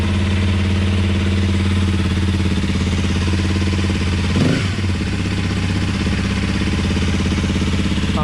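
Honda CRF motorcycle engine running steadily at idle after an inlet cam upgrade and ABS removal, a continuous close, even rumble with a brief mechanical clatter midway and no talking.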